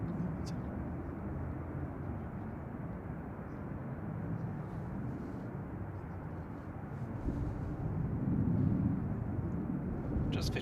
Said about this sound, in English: Heading back to Dubai now, Emirates Flight 22. This is A6 EOR. And of course, it's the A380